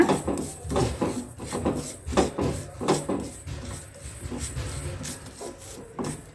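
Lentils (dal) being roasted golden in a pan give repeated scraping and rubbing strokes from a spoon stirring, in an uneven rhythm of close, moderately loud scrapes, with no voices.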